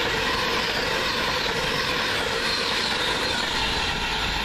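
A London Midland train rushes past near Lea Hall station, a loud continuous rumble of wheels on rail with faint clatter and squeal throughout.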